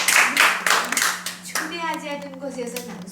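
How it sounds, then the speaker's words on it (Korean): A small audience claps for a poet at a Korean storytelling gathering, a brief burst of hand claps in the first second and a half, then fading as a voice carries on speaking. "박수 한번 드릴까요?"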